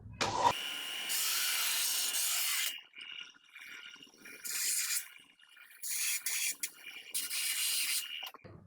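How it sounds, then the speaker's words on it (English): A belt sander smooths a rough edge on a piece of Shoretrooper or Deathtrooper chest armor, sounding in several separate bursts of moderate, hissing abrasion divided by short pauses, with no talk. "we're going to go back to the belt sander and just clean up this little bit of a rough edge"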